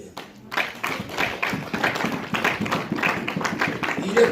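A church congregation claps along in rhythm during a sermon, steady repeated hand claps with voices mixed in, moderately loud and close throughout.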